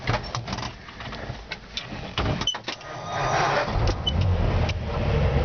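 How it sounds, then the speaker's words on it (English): A 1949 Ford F1 pickup's V8 engine cranks and catches from a push-button start, settling into a rough, steady idle that grows fuller toward the end, close by and without talk. "Push button start, fires right up."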